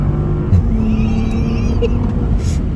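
A 2020 Bentley GT Convertible accelerating hard, its engine a loud, sustained rising drone with strong low harmonics, close and continuous, with a voice talking over it.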